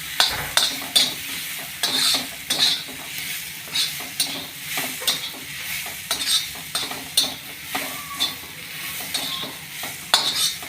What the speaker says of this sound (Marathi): थोडंसं फ्राय करायचं आहे.